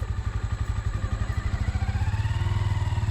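A Honda Grom motorcycle engine chugs in a quick, even pulse while being ridden nearby. It has a steady low, throbbing rhythm with some mechanical clatter.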